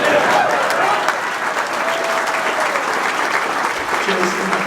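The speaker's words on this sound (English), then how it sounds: "You gotta clap for that" Crowd applause at a Colorado Buffaloes football press conference, continuous and fairly loud clapping held at an even level throughout, with faint voices mixed in beneath it.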